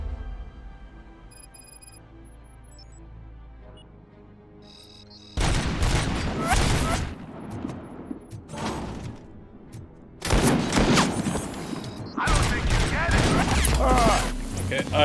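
Sniper fire rings out in Robocop: Rogue City, loud bursts of gunfire and booming impacts arriving in clusters after a quiet stretch, with dense crashing echoes between volleys.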